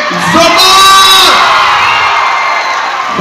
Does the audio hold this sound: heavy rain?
no